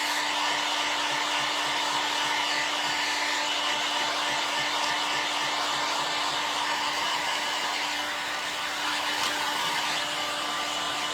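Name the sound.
hair dryer drying paint on furniture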